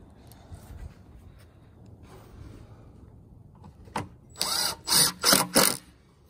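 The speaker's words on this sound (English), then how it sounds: "So now we can just screw it all down." A power drill drives screws into a plywood squirrel house, several short whirring bursts in quick succession after a quiet stretch with light handling noise.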